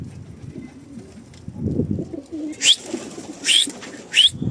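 Pigeons on a rooftop cooing in low, soft murmurs, joined by a few short, brighter bursts like wing flaps or flutters near the end, close by with no talking.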